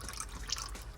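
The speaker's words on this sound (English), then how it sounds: "So I'm draining the trans fluid now." Transmission fluid draining from a C6 Corvette during maintenance, a faint steady trickle and drip into a container, alone without talk.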